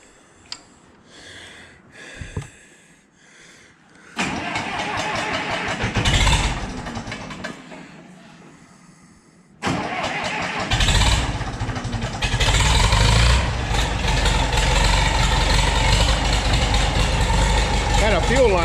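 An old tractor engine, back after a fuel line leak repair, cranks with uneven clatter, then catches and runs into a loud, steady, rumbling idle that fills the rest of the clip.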